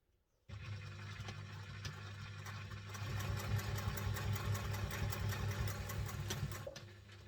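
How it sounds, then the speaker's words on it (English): A sewing machine running on after its automatic thread cutter is pressed, while sewing a bowler bag. It starts abruptly and keeps up a steady, close, rhythmic motor whir and needle chatter that grows slightly louder, with no speech. "my machine just kept going after I pressed the automatic thread cutter"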